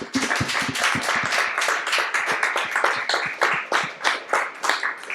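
An audience claps, the sharp individual hand claps clearly distinct, fairly close and continuous, thinning slightly toward the end.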